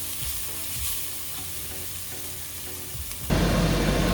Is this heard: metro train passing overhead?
no